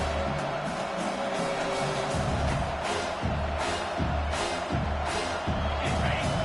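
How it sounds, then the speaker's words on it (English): A stadium crowd at a college football game roars steadily on a third-down defensive play, a dense, loud, sustained wash of cheering. "Decibels rising as the crowd gets behind this defense on 3rd down."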